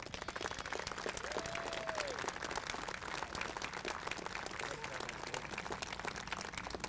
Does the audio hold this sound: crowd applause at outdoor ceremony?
yes